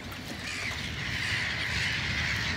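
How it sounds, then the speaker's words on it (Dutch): A large colony of hundreds of breeding gulls calls together on an island, a dense, continuous chorus of overlapping cries at moderate distance, with no talk over it. "Je zit honderden meeuwen te broeden."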